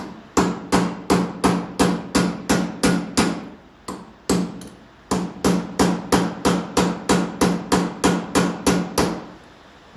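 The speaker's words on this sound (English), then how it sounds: "get a narrower chisel, just to get in there" Steady, sharp hammer blows strike a narrow chisel wedged into a gap on a Massey Ferguson 35 tractor, ringing out in two long, rapid runs of close, even strikes with a brief pause between them.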